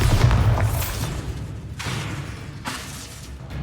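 Bombarda explosion spell cast in Hogwarts Legacy: a deep, loud boom with rumbling low end, followed by a couple of sharp bursts and a decaying crackle over several seconds.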